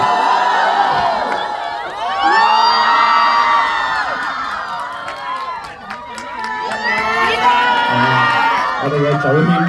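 A concert crowd for a performer, seated up to the back balconies, cheers, whoops and shouts in loud rolling waves that swell and dip, with excited voices threaded through the noise.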